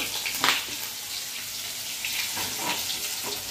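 Spice paste dropped into very hot oil, giving a broad hissing sizzle that bursts loud at first and then settles into a steady, close frying crackle.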